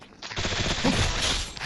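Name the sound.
gunfire in Free Fire video game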